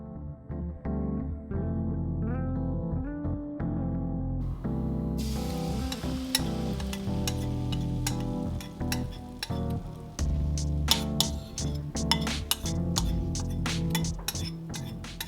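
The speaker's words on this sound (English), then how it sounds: "I heated a pan and added avocado oil before adding the batter to the pan." Egg batter fries in avocado oil in a heated pan, a constant sizzle with clinks of utensils against the pan and scattered sharp crackles, rising in brightness partway through, without talk.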